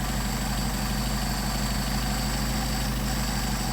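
A Mercedes 190SL engine fitted with Solex 44PHH carburetors idles steadily and close up, a continuous low mechanical hum with a faint, even pulse during idle-mixture tuning.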